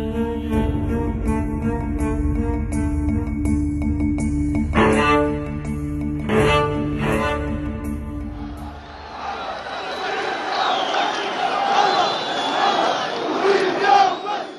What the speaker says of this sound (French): un bain de foule au milieu de ses partisans